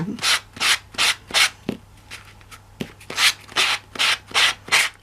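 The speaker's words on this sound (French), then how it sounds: "Ponceuse à main." Close, rhythmic rasping strokes of a small hand sander rubbing against paper edges, about a dozen even back-and-forth passes with brief gaps between them.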